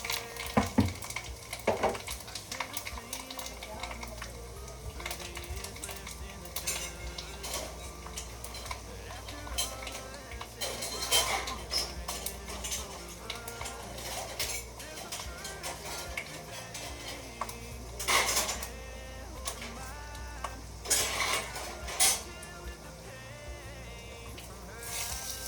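Chicken biryani ingredients frying and being stirred in a pan, village style, with steady sizzling and intermittent scraping and clinking of a utensil against metal, while a person talks throughout.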